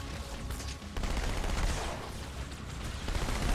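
Battle rifle gunfire in Halo 2, bursts of rapid shots merging into continuous fire amid dense game noise, fairly faint and with no clear talk.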